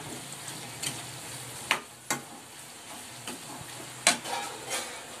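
Bitter gourd fries in a pan with turmeric, salt and chili, giving a steady close sizzle broken by occasional scraping stirs and light taps of the spoon against the pan.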